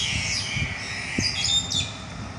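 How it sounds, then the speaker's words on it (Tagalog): Birds squawk and chatter in a tree outdoors, a cluster of harsh, overlapping calls at moderate distance over faint background noise, with no talking. "Mga bird."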